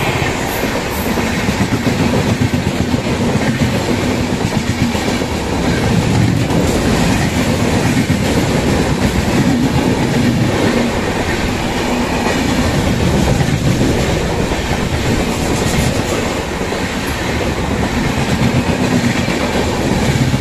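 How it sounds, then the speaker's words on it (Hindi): A Sabarmati–Mahesana DMU diesel train rolls into a small station, a steady loud rumble of engine and wagons with rhythmic wheel clatter and occasional faint squeal throughout, close by and without talk. "अभी हमारी ट्रेन पहुंची है डांगरवा"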